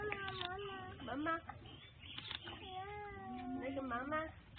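Giant panda cubs being fed apples at an enclosure in Chengdu let out a handful of nasal, meow-like bleating calls up close, with short rising and falling cries separated by brief pauses.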